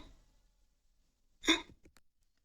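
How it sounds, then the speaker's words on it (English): A single sharp hiccup, close and brief, in otherwise quiet surroundings. "To hiccup."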